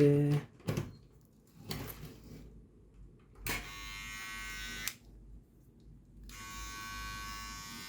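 A Wahl 5 Star Hero electric hair trimmer buzzes on and off in short bursts, with handling clicks and rustles between runs, fairly close and quiet.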